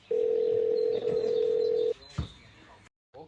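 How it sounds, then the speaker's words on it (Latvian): A phone signals an incoming call with a single steady electronic tone lasting about two seconds, fairly loud and close, followed by a brief handling thump and then silence. "O, kas man zvana?"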